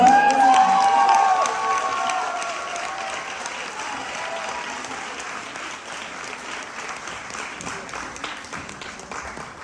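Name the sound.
audience applause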